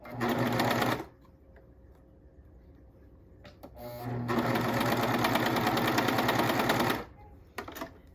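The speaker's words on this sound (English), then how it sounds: "Next, I'm gonna sew this." A sewing machine stitches stretchy leggings fabric in two bursts, a short one and then a longer steady run of about three seconds, with quiet pauses between them.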